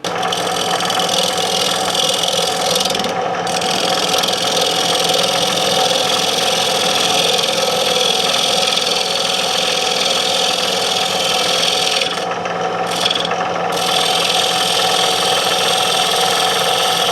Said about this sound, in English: put up on the lathe and get it turning.